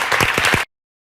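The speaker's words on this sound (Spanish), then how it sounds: "De modo que un aplauso para vosotros." A brief burst of applause from an audience at a short film presentation, clapping loudly for about half a second before cutting off into silence.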